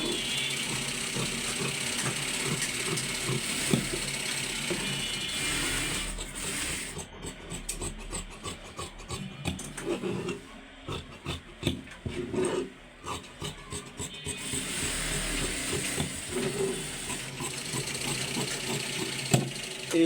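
Scissors snipping steadily through fabric while cutting the back piece of a size 43 blouse, with irregular clicks and rustles of cloth close by and no talking.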